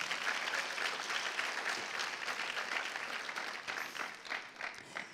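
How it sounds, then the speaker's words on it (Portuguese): A church congregation applauds during a sermon, a dense and steady wash of many hands clapping that carries on for several seconds at a moderate distance, with faint voices mixed in. "Se você crê, pode aplaudir a Jesus."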